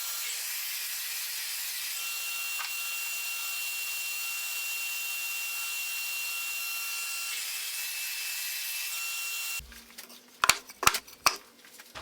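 Hardwood lumber is cut to roughly 22-inch pieces in a small woodworking shop, a steady high-pitched machine whine running for about ten seconds, then stopping and followed by a few sharp wooden knocks.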